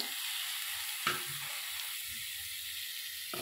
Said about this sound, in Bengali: বেগুনটা আমি হালকা করে ভেজে নেব।